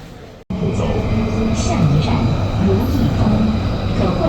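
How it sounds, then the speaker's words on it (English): Metro train running along an above-ground suburban section, a steady loud rumble of the carriage and rails that begins right after a brief cut and continues throughout. "This part of the metro is above ground"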